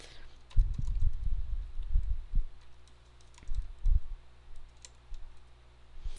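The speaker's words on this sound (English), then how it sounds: "I typed in the comment area my first program" Close computer keyboard typing comes in quick clustered keystrokes with short pauses, a few separate taps later, at a modest level against a quiet room.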